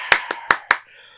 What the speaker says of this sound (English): after every one or two sentences, there is applause